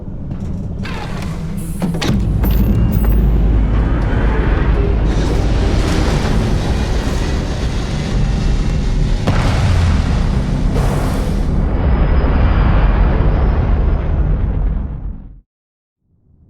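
Loud, sustained roar of a modded Class C battle cruiser lifting off and flying in Starfield, a dense rumbling burst that builds from the start and holds for about thirteen seconds before cutting off abruptly.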